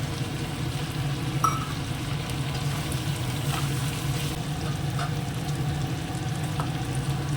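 Sliced onion petals frying in a pan of hot oil, a steady close hiss and sizzle that holds constant throughout, with a few faint clinks of a utensil and no talking.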